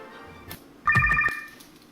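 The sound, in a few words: Motorola flip phone ringing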